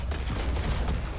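Rapid bursts of dual needler fire in Halo 2, a quick rattling volley of shots, fairly quiet, with no talk.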